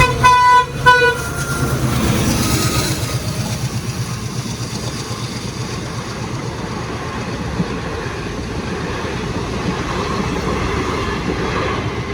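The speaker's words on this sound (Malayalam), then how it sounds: "ട്രെയിൻ വരാൻ വേണ്ടി ഇവിടെ വെയിറ്റ് ചെയ്യും." A train rolls past a level crossing in Muthupet, opening with a few sharp horn toots, then a steady, loud rumble of wheels and carriages that continues evenly for the rest of the stretch with no talk.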